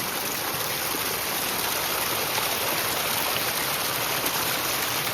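A clear mountain stream on a Himalayan trek rushes and gurgles in a steady, dense wash of water noise, close and continuous for the whole stretch, with no voices.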